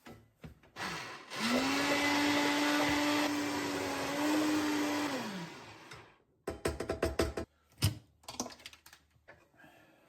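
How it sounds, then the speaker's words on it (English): Hand mixer blending strawberry coulis with mint, a loud steady motor whine running for several seconds, then winding down into a series of short bursts and knocks as the blending finishes. "I take the hand mixer, and after 10 minutes,"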